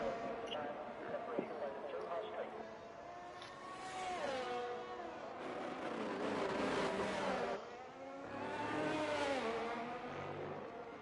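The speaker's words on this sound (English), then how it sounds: "First car out on track." A race car's engine whines and shifts pitch as it heads out on the Singapore street circuit in a sim racing game, the steady motor drone running continuously beneath a talking voice.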